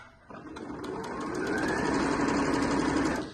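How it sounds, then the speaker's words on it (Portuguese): A sewing machine starts up and runs in a continuous whirring, rattling stitch while a ruffle is sewn onto a festival skirt, holding steady for a few seconds before winding down. "Vou costurando e vou ajeitando bem retinho, pra não ficar torto o nosso babado"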